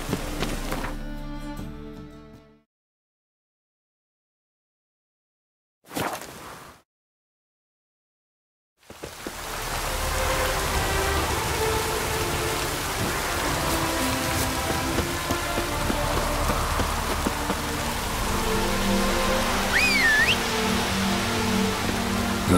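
Steady rain pattering down in The Witcher 3: Wild Hunt, a dense, even hiss that fills the scene after a brief break, with no voices over it.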